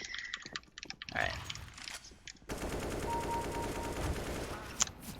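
Rapid video-game gunfire crackles in a steady burst through the second half, mid-loud, with clicks and a short tone before it.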